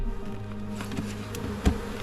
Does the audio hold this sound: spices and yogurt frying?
no